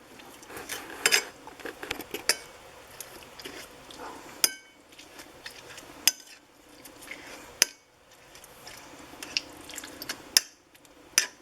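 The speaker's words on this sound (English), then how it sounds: "Maybe around a teaspoon of salt in there and mix it up real good." A utensil mixing salt into lime goat cheese in a bowl, giving soft scraping with scattered sharp clinks against the bowl, close and fairly quiet.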